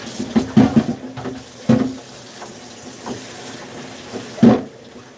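Water from a kitchen tap splashes into a sink during dishwashing, coming in short irregular gushes and swishes over a quiet background, with no talking.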